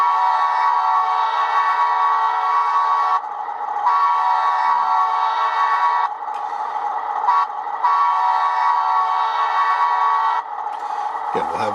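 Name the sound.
air horns from HO scale Alco PA/PB locomotive sound decoder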